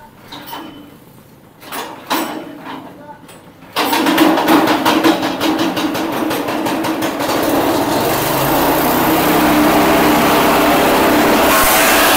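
A few short pulls and sputters, then a small Briggs and Stratton engine for a farm shredder catches and runs steadily at a loud, high-pitched buzz that keeps climbing.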